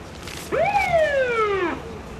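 An antique police car siren sounds during a volunteer fire association's anniversary county convention parade: one rising then slowly falling wail, loud and close, over steady outdoor background noise.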